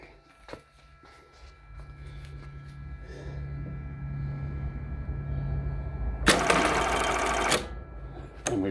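A Jack button-sewing machine stitches a small four-hole button, a low mechanical hum building under the stitching, then a loud burst of rapid clatter for about a second before it stops.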